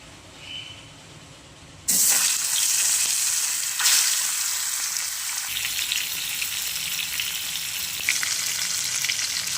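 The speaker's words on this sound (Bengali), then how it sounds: "মাছ ভাজার জন্য তেল গরম করে নিয়েছি একে একে মাছগুলো দিয়ে দেবো" Fish marinated with turmeric dropped into hot oil, a loud sizzle bursting in after a quiet moment and then crackling steadily, with fresh surges as more pieces go in, close up.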